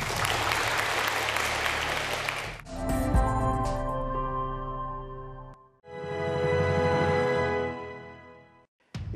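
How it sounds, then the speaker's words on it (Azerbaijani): Studio audience at a team quiz show breaking into applause, a loud burst of clapping at the start that gives way to music stings and tones, with further sustained sound later. "İkinci tura keçirik sizin alqışlarınızla"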